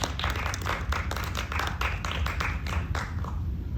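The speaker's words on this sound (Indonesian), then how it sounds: "boleh tepuk tangan sekali lagi teman-teman untuk Pak Brian" An audience at a student public-speaking event claps for a presenter, a steady patter of many hands held close and fairly loud for a few seconds, with faint murmuring underneath.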